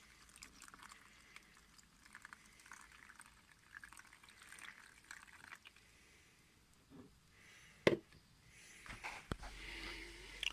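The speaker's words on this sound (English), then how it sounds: "And I will add the rest of the water" Water poured into an electric propagator holding compost blocks for sweetcorn modules, a faint, close, intermittent trickle and splash with a sharp knock partway through and a heavier pour near the end.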